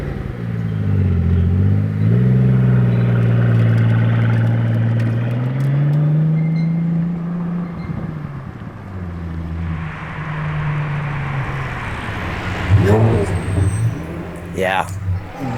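A Pagani Zonda 760 LH engine revs loud and close, a deep rumbling drone that swells and falls, then sharper crackling bursts near the end.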